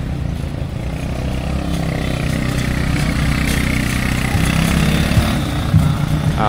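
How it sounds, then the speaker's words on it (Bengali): Buggy engines droning loudly and steadily in a dirt race, a continuous rumbling roar with engines revving up and down, heard close by throughout. "তো এইটা mainly dirt race kind of, দেখতে পাচ্ছেন যে ডার্ট রেস দিচ্ছে।"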